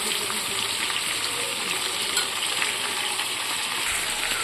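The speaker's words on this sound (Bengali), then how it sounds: "এগুলো ভাজা ভাজা হয়ে এসছে, আর একটু ভাজবো যাতে ভালো খেতে লাগবে" Food frying in a pan with turmeric and salt at an outdoor rooftop picnic makes a steady close sizzle and hiss, with light stirring and faint clinks underneath.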